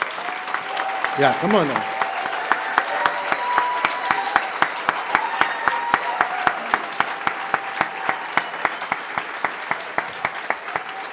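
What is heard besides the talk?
audience applause at fire academy graduation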